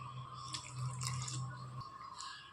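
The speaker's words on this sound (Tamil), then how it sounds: "கொஞ்சம் தண்ணி ஊற்றிக்கிறோம்" A little water trickles into a pot of greens soup made with ground coconut, a soft continuous pour with faint splashes and a low steady hum underneath, quiet and close.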